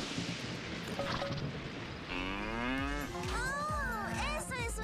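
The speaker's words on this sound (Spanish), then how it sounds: "Una estampida es cuando las vacas se asustan y comienzan a correr por todas partes." Cartoon cattle moo during a stampede on a cattle drive: several long, loud, overlapping bellows over a rumbling background, with no talk.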